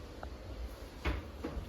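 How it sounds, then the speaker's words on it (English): Doors of a holiday room in Grenada swing open with two brief, soft knocks close by, the second a little quieter, over a low steady room hum. "So we opened the doors."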